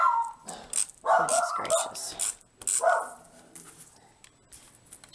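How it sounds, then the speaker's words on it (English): Dog indoors on a windy morning giving several sharp barks and yips in short bursts, loud and close, with a person's brief exclamation between them. "She's been barking all morning."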